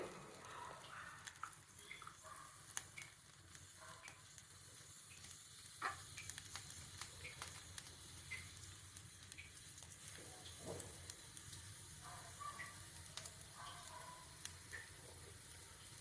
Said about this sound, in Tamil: ஓமம் பொரியட்டு